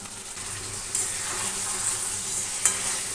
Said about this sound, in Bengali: আমি শুধু ট্যাংরা মাছগুলি দিয়ে এটাকে কষে নিচ্ছি